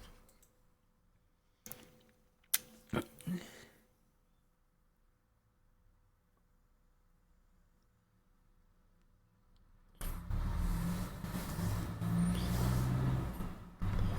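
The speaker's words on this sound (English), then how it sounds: "it sounds like there's a huge truck going past" A huge truck drives past: after a few scattered ticks and knocks, a loud broad rumble swells in suddenly and stays heavy for several seconds, with no voices.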